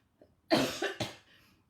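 A single person coughs: a faint lead-in, then two or three harsh, chesty coughs in quick succession, close and alone with no talk.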